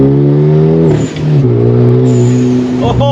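Tuned car engine with an aftermarket intake filter and blow-off valve, loud close revs that rise, drop off with a brief whoosh, then climb again in a short burst.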